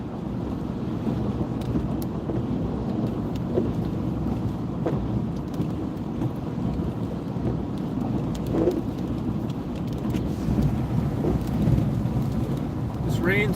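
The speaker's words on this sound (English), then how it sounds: "This rain's subsiding quicker than they said" Steady rain on a rainy Sunday, a continuous broadband wash of patter and hiss with gusty wind noise, holding an even loudness throughout with no clear voices.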